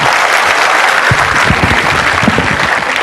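A seminar audience claps together, a dense and loud burst of applause with sharp individual hand claps standing out as it builds, heard alone with no talking.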